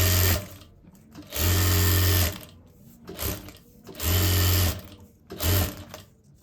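A sewing machine stitches a sleeveless blouse in four close, loud bursts of rapid whirring, each lasting about a second, separated by short pauses with light handling noise.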